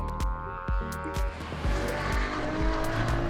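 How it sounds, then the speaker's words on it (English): A Ferrari 812 Competizione's V12 engine roars under load on track, with a sustained loud, rasping drone broken by sharp bursts and possible tire squeal, close up and continuous with no talking. "I hope you can hear me over the sound of this V12"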